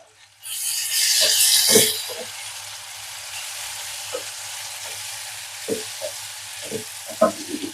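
Tomato pieces hit a hot pan for a bitter gourd gravy curry with a loud burst of sizzling that settles into a steady, quieter fry, broken by occasional clinks of stirring.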